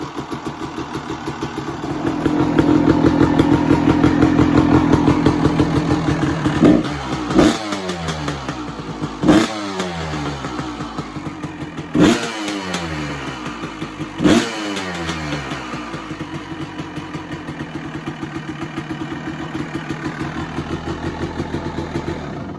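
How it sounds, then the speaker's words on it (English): A 1994 Honda CRE 260 motorcycle engine runs close by at a steady idle and is blipped in four sharp revs that each drop back to idle. No voices are heard. "let's get her fired up"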